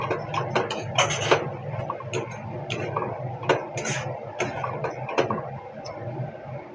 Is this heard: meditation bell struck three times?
no